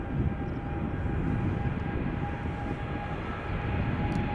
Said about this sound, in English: I can see a Transavia now lining up on center.